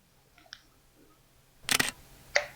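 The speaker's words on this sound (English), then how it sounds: "when I press the shutter button, it'll fire off." The shutter of a Werra film camera fires with a sharp mechanical snap, preceded by faint small clicks and followed by a second crisp click, all close and isolated in a quiet room.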